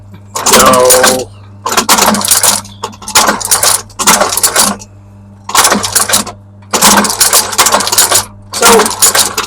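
A shoe-repair stitching machine runs in repeated bursts, stitching straight through the base of a boot during a Dainite Ranger resole, with loud mechanical clatter separated by short pauses and a steady low hum underneath.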